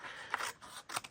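Scissors snipping through a piece of cardstock for a stamped card project, two short close crisp cuts in quick succession on a quiet table.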